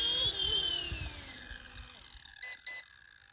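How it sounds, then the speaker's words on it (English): An RC ERA C184 MD500 model helicopter gives two short, high electronic beeps close together during its auto-land, over a faint motor whine that fades. "And it beeps."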